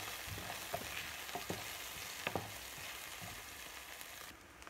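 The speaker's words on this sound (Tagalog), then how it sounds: "lagay na natin tong sibuyas. Gisa-gisa lang natin konti, tapos saka natin ilagay yung corn beef" Onions sautéing in a pan before corned beef goes in, a steady close sizzle broken by scraping stirs and a few sharp clinks of a utensil against the pan, no talking.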